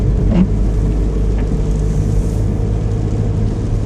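A car towing a caravan drives slowly along a road, with a loud, steady low rumble of engine and road noise filling the whole stretch and no talk.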